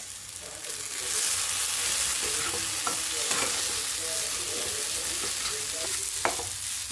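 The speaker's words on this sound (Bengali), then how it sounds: "দেখুন ভাজা ভাজা হয়ে গেছে" Green pea filling for hare matar kachori sizzles steadily in a pan, with a dense, even frying hiss and occasional soft scrapes and stirring clinks; no talking.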